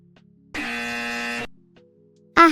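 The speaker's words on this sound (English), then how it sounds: "Sorry for the incorrect buzzer sound, there's no correct buzzer for me." A harsh, loud buzzing tone sounds the incorrect-answer signal, holding steady for about a second before cutting off. After a short quiet hum, a second burst of the buzzer begins.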